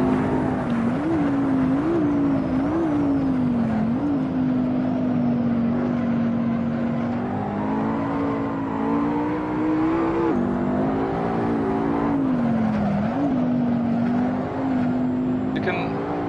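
A race car's engine in Assetto Corsa, driven with traction control off, drones loudly and continuously, its pitch repeatedly climbing and dipping as the throttle is worked.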